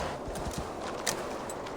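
Steady clip-clop of horse hooves at a walking pace in Assassin's Creed Valhalla, fairly close, with a low ambient rumble underneath.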